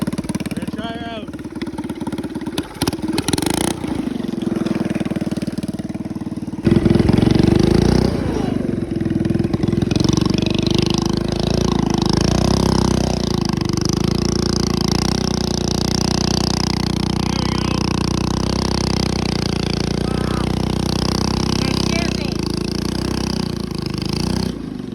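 A small engine runs steadily on a gas-powered GT Snow Racer toboggan, loud and close, with a droning, buzzy tone after a brief rough start, and no talk over it.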